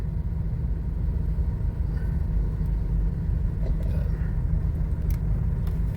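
Heavy road traffic on Mindanao Avenue, between Quezon City and Valenzuela in the Philippines, makes a steady low rumble of many engines and tyres, dense and unbroken, with faint passing vehicle noises above it.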